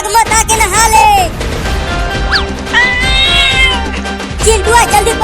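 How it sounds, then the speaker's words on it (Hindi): A cartoon cat in a 3D Hindi animation meows loudly and repeatedly in rising and falling wails, mixed with busy household clatter and excited voices talking over it. "रुक जा बिल्ली, भाग मत, आके नहा ले।"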